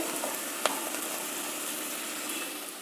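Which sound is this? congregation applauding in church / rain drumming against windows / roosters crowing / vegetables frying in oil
vegetables frying in oil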